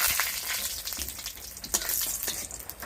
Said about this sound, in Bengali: তেল গরম হয়ে গেছে দিয়ে দিচ্ছি ফোড়নে কিছুটা গরম মশলা আর দুটো তেজপাতা কয়েকটা শুকনো লঙ্কা